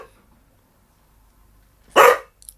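A dog gives a single loud, close bark after a stretch of near silence, followed by a brief faint yip.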